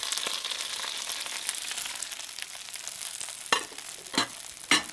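Escarole frying in oil in a pan: a steady close sizzle, with a few sharp scraping stirs near the end.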